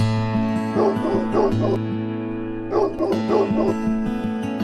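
A dog resting after a jog gives short yipping barks and whimpers in two clusters over a steady low hum, near and fairly loud.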